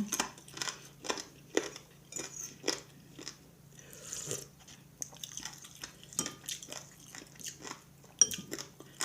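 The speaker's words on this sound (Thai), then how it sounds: "เคี้ยวกระดูกหมูอ่อนกุ๊บกุ๊บเลย" Soft pork cartilage bones from a spicy boiled soup being chewed close to the mic: sharp, rhythmic crunches with wet bites and occasional light clinks of cutlery, no talking.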